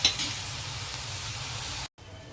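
Onions sizzle steadily in hot oil for an Andhra-style dried prawn curry, a dense close hiss with light stirring scrapes, cutting out briefly near the end before the frying resumes.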